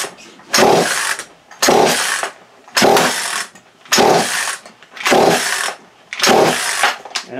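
A worn Craftsman chainsaw with no muffler cranks in six loud, evenly spaced bursts, each a harsh rough rasp that cuts off sharply, the engine sputtering without settling into a steady run.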